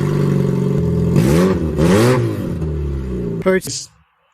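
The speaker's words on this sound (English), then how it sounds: "In the morning, the owner found this car sounding like this" A car with its catalytic converter stolen, revving roughly with a loud, raspy, uneven drone that surges twice, then a sharp clatter before the engine cuts off.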